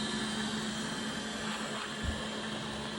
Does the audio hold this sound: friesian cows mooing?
no